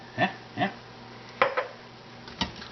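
Salsa and Marsala wine with chicken being stirred in an Instant Pot: four short, fairly faint scraping clinks of a utensil against the metal pot, spaced unevenly.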